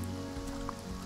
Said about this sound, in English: And this is raining, of course.